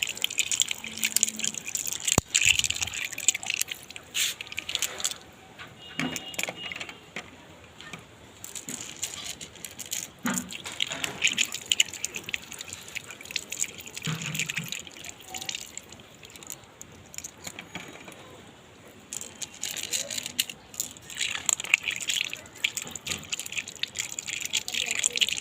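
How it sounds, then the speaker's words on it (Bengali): Aquarium stones are washed by hand in water, a little at a time: close sloshing, dripping and gritty clattering of pebbles rubbing together, continuing unevenly throughout. "পাথরগুলোকে ভালো করে ধুয়ে নেব অল্প অল্প করে।"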